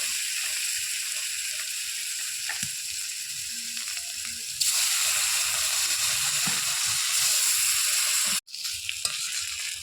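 Snakehead fish frying in oil make a close, steady sizzle that swells louder partway through. A brief gap comes before the hiss picks up again.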